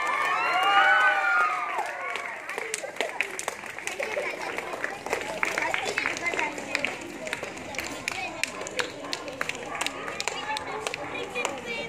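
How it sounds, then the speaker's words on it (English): Audience applause and cheering at a Kyokushin karate prize ceremony, scattered clapping and shouts continuing over the length with voices and crowd noise mixed in. "Give a round of applause."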